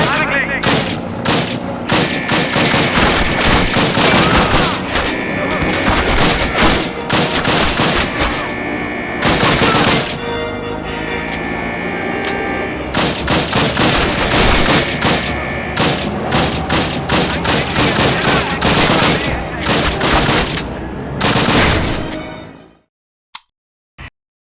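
Sustained heavy gunfire from the 2003 Call of Duty, dense overlapping automatic bursts and blasts roaring nearly nonstop for over twenty seconds with voices mixed in, ending abruptly in silence broken by two lone sharp shots.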